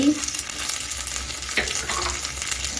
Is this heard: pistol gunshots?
no